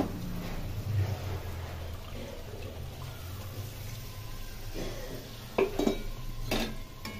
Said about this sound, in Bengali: এর মধ্যে পোস্ত, লঙ্কা, তিল বাটা দিয়ে দিলাম।